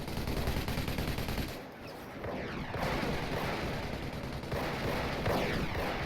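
Squads trading gunfire in Company of Heroes, a steady dense rattle of distant rifle and machine-gun shots mixed with muffled battlefield rumble, continuous throughout with a brief dip partway.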